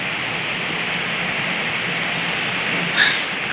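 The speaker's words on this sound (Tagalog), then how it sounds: "Umuulan pa." Steady rainfall at night, a constant broad wash of hiss that stays even throughout, with a brief brighter clatter near the end.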